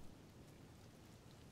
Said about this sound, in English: It's raining already.